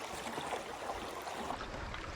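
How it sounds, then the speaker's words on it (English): Water current rushes steadily through a Florida spring run on the Alapaha or Suwannee River, a continuous broadband wash of flowing water with no voices. "A lot of water coming through there."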